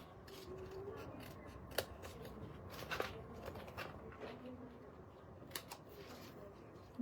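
Scissors cut a small word out of paper with crisp, irregular snips, a few sharper clicks standing out against a quiet, close background.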